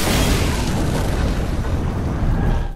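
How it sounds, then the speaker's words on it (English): A loud, sustained explosion in Watch Dogs roars and rumbles for a few seconds, dense and booming, then cuts off abruptly. "a selection of guns and bombs that make for some pretty impressive explosions"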